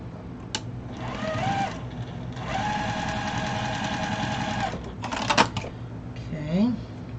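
A sewing machine chain sewing a quilted spool block, with several runs of steady, fast mechanical stitching that start and stop, up close, with a voice speaking between and over the runs.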